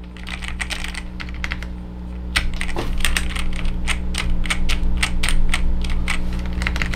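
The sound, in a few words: typing on Garuda GG82G mechanical keyboard, NKRO test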